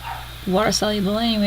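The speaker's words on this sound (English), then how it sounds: "Sorry about the dogs in the background," Dogs bark in the background, a couple of short, sharp barks rising over close, continuous talking.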